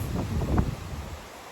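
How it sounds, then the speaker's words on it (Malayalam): Strong wind gusting outdoors at a hill-station dome stay in Vagamon, a steady low rumbling roar buffeting the microphone throughout, swelling briefly before easing slightly. "നല്ല കാറ്റടിക്കുന്നു"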